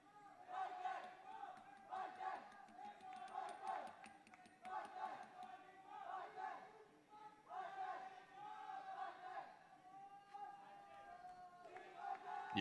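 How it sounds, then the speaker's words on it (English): A packed crowd at a Chennai esports LAN match between Global Esports and Enigma Gaming chants and roars in repeated rhythmic surges, loud and reverberant throughout. "You just hear this crowd. It's insane."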